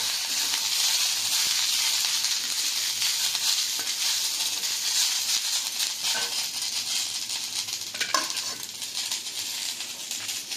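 Mint and tender curry leaves roast in a hot pan with a steady, close, bright sizzle and hiss that runs throughout, with occasional scraping and stirring, and no voices.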